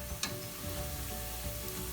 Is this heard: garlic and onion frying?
yes